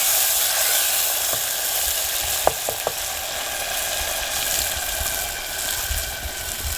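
Elephant foot yam (suran) pieces frying with spices in a pan in a village kitchen, giving a steady, close sizzle with a few sharp pops partway through and no talk.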